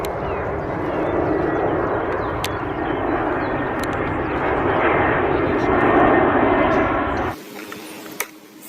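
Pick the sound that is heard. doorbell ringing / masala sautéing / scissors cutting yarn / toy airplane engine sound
toy airplane engine sound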